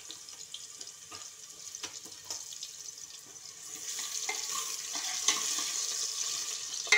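Potatoes drop into hot oil for a stuffed eggplant and potato curry, giving a soft hissing sizzle that swells louder and steadier partway through, with light clinks.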